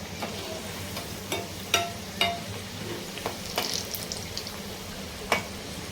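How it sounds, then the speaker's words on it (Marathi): Potato bhaji frying in oil over a medium gas flame, a steady soft sizzle with scattered sharp crackles and pops, fairly faint and without talk. "खालून थोडीशी ब्राऊन झाल्यावरती भजी पलटून घ्यायची आहे साधारण दोन ते तीन मिनिटांनी गॅस मी मिडियम फ्लेमवरती ठेवला आहे"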